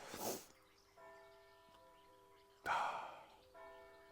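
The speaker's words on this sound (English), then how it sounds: "Church bells if you can't hear them." Distant church bells toll at about 7 in the morning in Devon, with sustained ringing tones, partly masked by loud breathy noises and a sharp gust near the start and middle.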